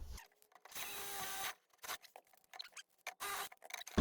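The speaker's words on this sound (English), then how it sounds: "So I need to drill a hole for this." A power drill boring a hole while plumbing a sink and water heater in a coffee trailer, heard as several close, loud whirring bursts of varying length separated by short pauses.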